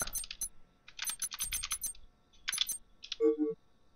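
Rapid keyboard typing during a Welcome To The Game session, irregular bursts of close clicking keys with short pauses, then a few brief tonal beeps near the end.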